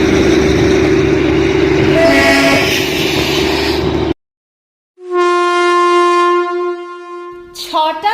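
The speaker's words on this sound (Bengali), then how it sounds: "আবার টয় ট্রেন আসছে।" Darjeeling toy train passing through the Batasia Loop: a loud close rumble of wheels and carriages for about four seconds, a brief silence, then a long sustained whistle blast, followed by more train noise.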